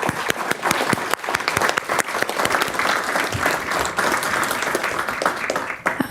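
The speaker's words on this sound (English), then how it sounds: "a round of applause to all of our panelists" A seated audience applauds panelists at a discussion on religious engagement in global diplomacy, with dense, steady clapping filling the room loudly and continuously from start to finish.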